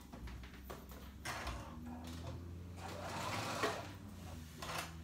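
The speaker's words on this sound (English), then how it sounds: "So I'm just basting that on." A sewing machine basting fabric for paper bag pants runs in steady bursts of rapid stitching, with brief pauses between runs, close and continuous throughout.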